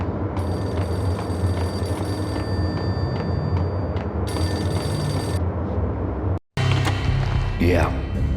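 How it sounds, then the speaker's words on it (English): A payphone rings in the Max Payne video game, its bright electronic trill repeating steadily over a dense, constant background ambience, with a short dropout near the end. "Payphone started to ring."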